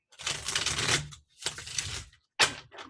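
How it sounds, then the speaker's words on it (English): Tarot cards being riffle shuffled by hand: two long crisp flurries of fluttering card edges, followed by a short sharp bridge-like riffle, close and clear with no talking. "Sometimes a good riffle shuffle tames down the energy."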